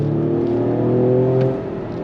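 A 2025 Ford Explorer ST midsize AWD SUV accelerates under throttle, a steady humming engine note that rises slightly and then eases off near the end, heard from inside the cabin with no talking.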